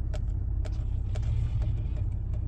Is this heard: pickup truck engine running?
yes